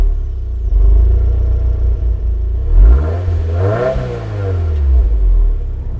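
A 2022 Subaru WRX with the turbocharged FA24 engine and six-speed manual revs up sharply, climbs to a peak and falls back, then rises again, loud and close, with a deep exhaust rumble and no talking.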